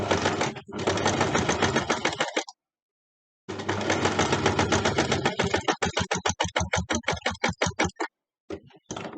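Sewing machine straight-stitching around an outline on scrap fabric, running in loud bursts with a short pause, the later stretch breaking into a rapid stuttering rhythm of separate stitches before stopping.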